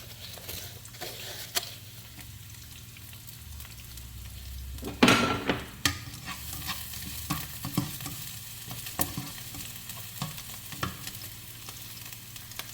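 Steady sizzling of half a large onion frying in a pan until glassy, with intermittent scraping and stirring sounds throughout, no voices.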